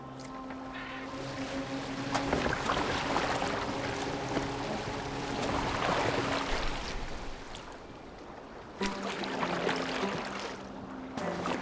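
A boat moves through water in the Viking-era game Assassin's Creed Valhalla, with a steady wash and rush of waves and wind and low hull noise, briefly broken by a sharp knock. No one speaks.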